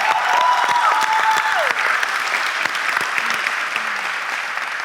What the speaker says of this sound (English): Can we give God a hand clap of praise and give him some thanks this morning?